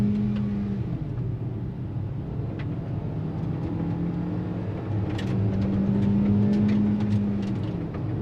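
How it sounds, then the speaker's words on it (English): A Hyundai Exter car engine revs hard at full throttle, its droning tone climbing in pitch through a long pull, loud and close, with no talking. "full pedal to the metal. Listen to the engine."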